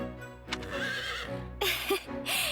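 A horse in the Fire Emblem Warriors: Three Hopes video game whinnies in a loud, close burst, then gives two more snorting neighs, alone with no talk.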